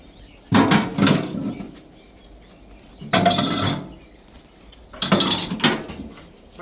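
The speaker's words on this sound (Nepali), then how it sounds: "भाँडा पनि मोल्नु पर्ने हुन्छ होइन।" Dishes being washed by hand produce three separate bursts of clinking and clattering crockery, with quieter pauses between them and no speech.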